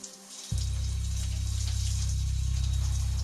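Shower water bursts on suddenly after a moment of near silence, then keeps running as a steady, close, full rush of spray.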